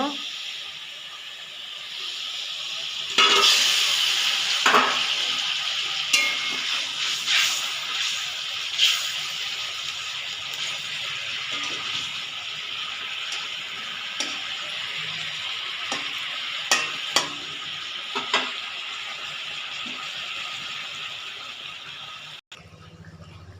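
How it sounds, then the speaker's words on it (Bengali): Fried fish going into a boiling fish curry, a continuous hissing bubble of the simmering gravy with scattered clinks and scrapes of a utensil against the pot, close up, and speech occasionally. "ঝোলটা আমার ফুটে গেছে, এবার ভেজে রাখা মাছটা আমি দিয়ে দেব"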